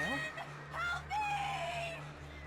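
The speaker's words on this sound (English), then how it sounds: "Why are the birds attacking me?" Birds attacking the player in the video game Alan Wake, heard as harsh squawking, fowl-like cries over a steady low hum in a dark cabin scene, loud and continuous through the clip, with a voice speaking over it.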